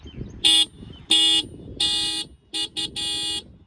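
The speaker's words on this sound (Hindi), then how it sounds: "अभी मैं आपको एक बार दोनों ही बाइकों का हॉर्न सुनाता हूँ" A double-tone horn on a TVS Apache RTR 160 motorcycle honks in several short, loud blasts of a bright two-tone sound, some quick double taps, up close with quiet between.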